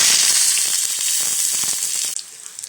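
Chopped small onions hitting hot oil with mustard seeds and a pinch of fenugreek, a loud bright sizzle with crackling pops that drops suddenly near the end as the frying settles, no talking.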